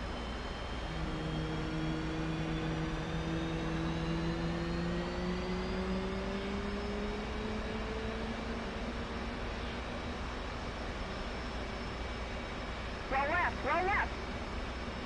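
F/A-18C Hornet jet engine spooling up during a cold start in DCS World, a steady rising whine with climbing tones over a constant roar, joined by a brief burst of chirping near the end.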